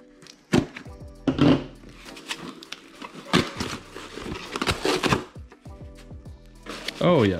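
Packaging for cheap AliExpress Jeep JK and JL mods gets unwrapped close up, with irregular rustles, crinkles and sharp thumps in uneven bursts and no talk.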